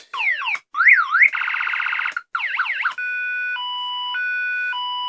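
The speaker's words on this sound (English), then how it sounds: "Put the siren on. You know. There's a couple of different sirens." A loud electronic siren from a portable ammo-box power unit cycling through several patterns: rapid warbles, a fast yelp, then a steady two-tone hi-lo alternation, all close and continuous.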